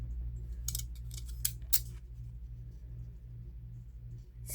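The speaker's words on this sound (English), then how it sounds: "Let me grab another pair of funny scissors for this other piece here." Decorative-edge craft scissors snip through paper for card labels, giving a quick cluster of crisp, close cuts over a low steady hum, then falling quiet.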